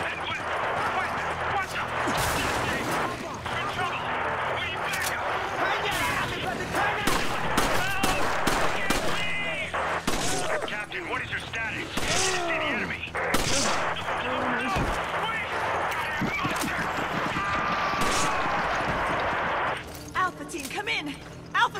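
Gunfire from the video game Resident Evil 5 crackles in scattered shots and bursts amid loud game sound effects and music, with voices talking over the action.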